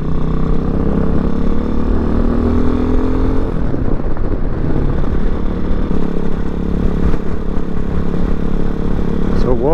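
Motorcycle ridden on the road, its engine note a steady loud drone with shifting pitch and wind buffeting throughout, no speech.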